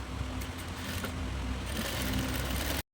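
A sewing machine stitches a shalwar seam, running as a steady mechanical hum and rattle for about three seconds without pause, close and fairly quiet with no talk.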